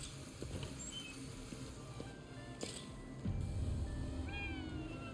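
A cat meows at a bodega counter in the Ghostwire Tokyo video game, with a few short high cries heard faintly over steady background game ambience and low rumble.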